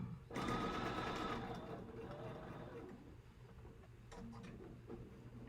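A sewing machine stitches a quilt block in a close, quiet, steady run of needle chatter that slows and trails off, followed by a few soft clicks.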